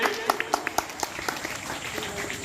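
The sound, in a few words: applause for class 7 monitor election winner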